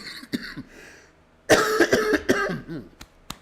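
A burst of harsh, close coughing, several coughs in quick succession after a quieter stretch with faint sounds.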